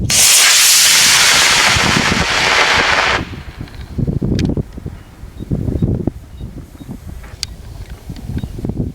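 A model rocket motor ignites on a clear morning launch, giving a loud roaring hiss that lasts about three seconds before cutting off, followed by quieter outdoor rustling and wind.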